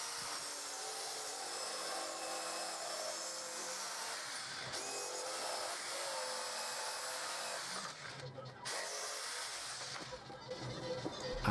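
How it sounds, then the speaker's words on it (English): A jigsaw cuts through pallet wood with a continuous buzzing rasp that stays fairly steady, briefly dipping near the end, with no voices. "I carefully measured, marked up and cut out some more pallet wood with a jigsaw."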